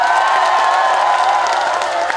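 A crowd in the audience seating at a traditional music festival concert in Yeongdong claps and cheers in a steady, dense wash of applause. It sounds loud and close.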